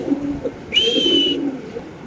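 A Lahori pigeon coos at a pigeon farm, a single short call rising over low background murmur.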